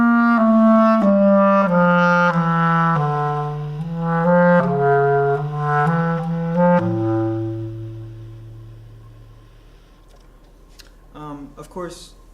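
Bass clarinet playing a slow, connected legato melody from an etude, smooth sustained notes stepping through a phrase and ending on a long low note, followed by a brief moment of quiet and some faint talking at the end.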